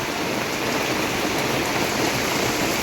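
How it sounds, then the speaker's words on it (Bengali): Heavy rain pours down outdoors, a dense, loud, unbroken hiss of falling water filling the moment without any pause. "খুব বৃষ্টি পড়ছে, বৃষ্টির মধ্যে রান্না করছি"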